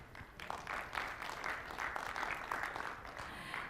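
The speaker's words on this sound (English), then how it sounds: "I suggest we should give a round of applause to ourselves to staying this late" A conference audience applauds late in a developer session, a modest, fairly quiet patter of clapping from a sparse crowd that rises and settles over a few seconds.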